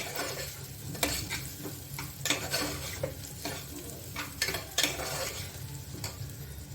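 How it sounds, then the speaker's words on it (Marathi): Grated ginger and garlic frying in a pan for dal fry, a continuous sizzle broken by repeated sharp scrapes and clinks of a spoon stirring against the pan, close and clear, with no voices. "आलं लसूण थोडंसं आपल्याला याच्यावर फ्राय करून घ्यायचं आहे"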